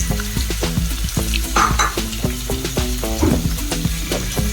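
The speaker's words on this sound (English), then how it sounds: "let's add the chopped onions. Today I'm adding about 2 large onions." Chopped onions, about two large ones, sizzle and fry in hot oil in a pan as the base for a tomato and egg gravy, a loud continuous crackle with no voices.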